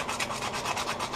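Very soft wood spinning on a lathe is sanded with 100-grit paper, a close, steady rasping rub with a fast, even pulsing rhythm over a short stretch.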